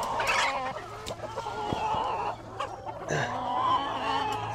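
Chickens cluck and a rooster murmurs close by, a steady stream of low clucks with scattered sharper calls and faint clatter in the background.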